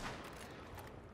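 Rapid gunfire from the video game Rainbow Six rattles in a dense, continuous burst, loud and close, over a brief stretch.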